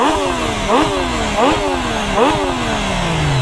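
A 2018 Triumph Street Triple 765 R motorcycle with stock exhaust revs repeatedly, rising in pitch and dropping back in a steady rhythm, loud and close, with a rough, throaty exhaust.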